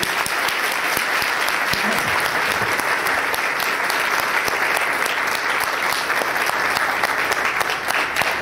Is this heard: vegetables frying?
no